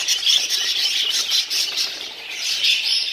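Budgerigars in a breeding aviary squawking and chattering continuously, many shrill overlapping calls at moderate volume with no voices.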